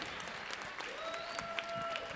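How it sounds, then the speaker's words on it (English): An audience at a school Black History Month program gives a round of applause, soft and distant, an even patter of many hands sustained throughout with faint voices beneath. "Can you give her a big round of applause?"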